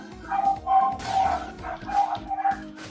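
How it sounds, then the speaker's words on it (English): A neighbor's dogs barking in quick repeated yips and barks, several in a row with a slightly whiny tone, fairly close and clear. "They're the neighbor's dogs."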